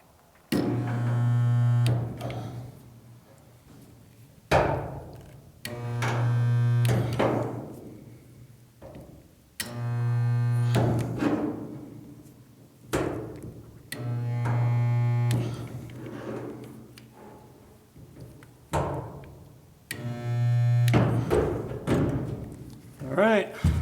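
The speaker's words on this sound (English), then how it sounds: "Let's just go ahead and get it spot welded." A spot welder joins a filler panel on a GM A-body GTO restomod, making about six loud clunks with a short electric hum, spaced roughly four seconds apart in a shop, with some talk between the welds.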